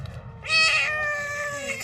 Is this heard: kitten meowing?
yes